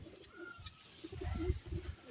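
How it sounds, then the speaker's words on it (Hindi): Teddy breed pigeons cooing inside a loft, soft repeated low coos close by, building slightly in loudness over a couple of seconds. "अंदर कबूतर ने अंडे बच्चे किए हुए हैं जी खुडों में"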